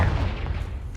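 A short, heavy blast from the Confringo spell in Hogwarts Legacy lands as a low, booming burst that fades quickly, with no talking.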